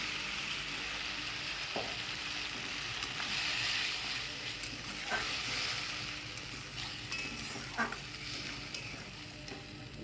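Spice mix is poured over fried onions in a pan, giving a continuous crackling sizzle with intermittent spatula stirring and light scrapes, close and steady without any voices.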